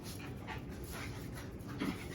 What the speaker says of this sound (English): I know Lester's whining